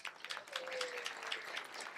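A banquet audience gives a county commissioner steady applause, distant and fairly soft, with a brief murmur of voices under the clapping.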